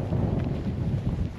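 Low, steady wind rumbles and buffets against the microphone on a hilltop along the Camino de Santiago in Spain, loud and continuous with no other sounds.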